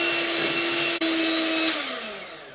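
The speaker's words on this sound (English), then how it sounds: "So I'm going to whisk all that in." An electric whisk runs steadily through a marzipan mixture, giving a loud, continuous motor whine that cuts out briefly for a moment, then restarts and slowly winds down in pitch and level toward the end.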